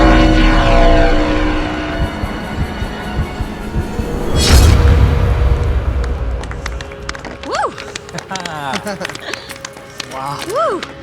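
Propeller airplane droning loudly as it flies and dives in a film scene, with a swelling engine roar that builds and sweeps past midway, followed by quieter rumbling and voices speaking over it.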